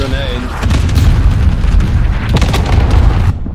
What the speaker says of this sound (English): Cluster strike just threw me on my back